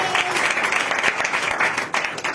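A church congregation breaks into full applause during a sermon, a dense, steady wash of clapping that stays loud throughout with slight surges near the end.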